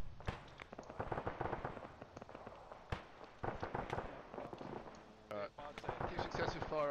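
Gunfire in the military video game Arma 3: a steady series of sharp shots and bursts, some near and some distant, with people talking over the shooting throughout.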